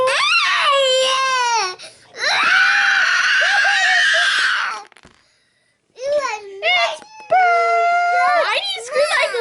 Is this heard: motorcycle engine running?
no